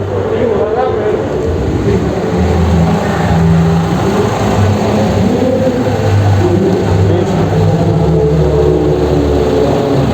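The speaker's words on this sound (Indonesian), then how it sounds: "RPM-nya belum naik. RPM naikkan." A car engine revs up toward 2000 RPM, a steady, loud, continuous mechanical drone that swells slightly as the throttle opens and fills the whole stretch.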